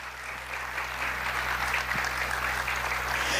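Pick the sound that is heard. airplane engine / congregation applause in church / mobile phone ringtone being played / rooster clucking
congregation applause in church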